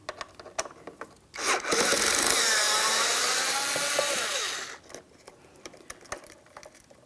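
A power screwdriver spins out a Phillips head screw from the lower mirror of a 2007-2014 GMC Sierra 2500 HD, with one steady whirring burst of about three seconds, close up. Light clicks and handling sounds come before and after.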